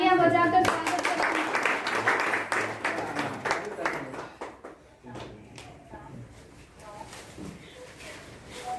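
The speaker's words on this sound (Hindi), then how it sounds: "मंचासीन पदाधिकारियों का स्वागत हो रहा है। आप सब तालियां बजाकर स्वागत करें।" Applause and scattered clapping from a crowd welcoming dignitaries onto the stage at a government school's Independence Day (15 August) celebration, dense at first and then thinning to sporadic claps amid chatter and children's voices.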